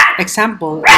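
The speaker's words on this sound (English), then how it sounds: "sorry for my dog." A pet dog barks and yips a few times in quick succession, loud and close, overlapping a person talking nearby.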